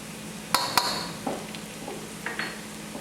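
Spoon scraping and knocking in a pan while dry spices including curry powder, cayenne, turmeric and ground mustard seeds are stirred into an eggplant curry, with two sharp clinks followed by softer scrapes.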